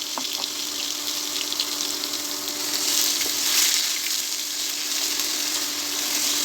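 Crushed onion with ginger and garlic frying in a pan for fish masala, a steady loud sizzle that swells midway, with occasional stirring clinks and no talk.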